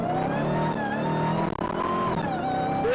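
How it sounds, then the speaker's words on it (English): A 2016 Dodge Challenger Hellcat pulls hard under partial throttle over a small hill, its loud supercharged engine note rising and wavering with a brief dip midway before climbing again. "wait until we go through this little hill up here, and I'm gonna punch it."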